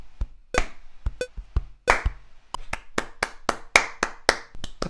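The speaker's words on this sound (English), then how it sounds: "the claps are gonna be easy" Recorded clap samples in a music production play one after another, sharp dry hand claps in an irregular sequence, close and isolated with no other sound.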